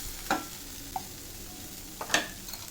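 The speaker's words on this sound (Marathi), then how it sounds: "गॅस बारीक ठेवायचा आणि हलवत राहायचं व्यवस्थित" Sweet corn kernels roasting in a pan over a low gas flame are stirred with a spoon, giving two or three short scraping strokes against a faint background sizzle, with no voices.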